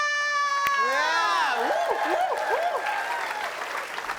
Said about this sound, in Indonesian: Tepuk tangan buat Padat Karya.